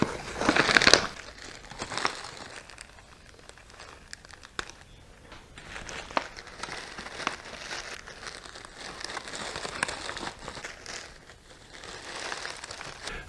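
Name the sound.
plastic bag being cut and handled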